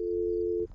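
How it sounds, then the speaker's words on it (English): A telephone dial tone in the horror video game Fears To Fathom: Norwood Hitchhike, a single steady close electronic tone that holds for most of the moment and then cuts off abruptly. "Is that all you do is dial tone?"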